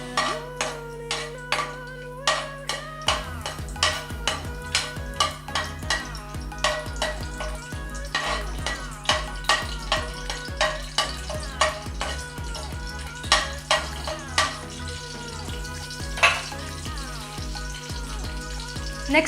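Garlic cloves roasting in a pan while making Mysore mandakki, with a steady sizzle under repeated sharp clinks and scrapes of a spoon stirring against the pan in an uneven rhythm.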